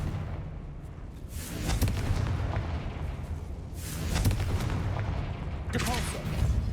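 Confringo blasting spell from a Harry Potter video game, heard as several heavy booming blasts over a rumbling low background, loud and close, with bursts recurring every couple of seconds.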